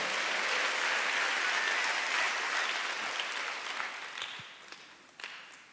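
A church congregation applauds together in a dense, sustained wash of clapping that gradually thins and fades toward the end, leaving a few scattered claps.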